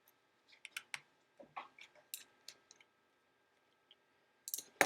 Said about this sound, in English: I'm going to go ahead and remove the screws that are holding the keyboard to the top case.